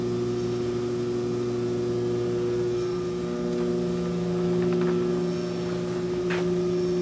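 Shred-Tech ST-10 paper and plastic shredder driven by a 7.5 horsepower three-phase 480-volt electric motor, running idle with a steady low electrical hum and drone, no talking.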